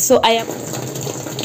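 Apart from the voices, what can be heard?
water flowing into Mika twin tub washing machine through pipe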